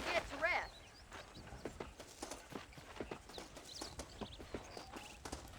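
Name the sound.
horse hooves in the video game Red Dead Redemption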